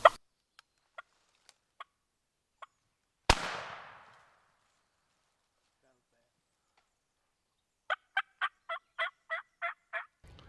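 During a turkey hunt, a single loud shotgun blast booms and rings out in the open air, preceded by a few faint clicks and followed by a rapid run of gobbles.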